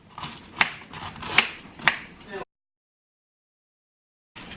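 Cabbage being sliced with a knife into a bowl for cabbage fufu: a few sharp cutting strokes close up over a soft background, then the sound drops out completely before a brief return.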